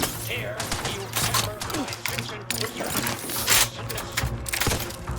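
Shotgun fire from the video game The Outer Worlds 2, with repeated sharp blasts and clattering impacts over a busy backdrop of combat noise and a steady low game hum.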